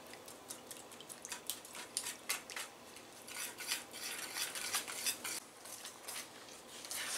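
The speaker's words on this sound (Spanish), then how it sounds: "Y ahora sí vamos a revolver esto bien bien." A utensil scraping and clinking against a bowl while stirring oat bread batter with vanilla, quick irregular taps and scrapes, close and fairly quiet with no talking.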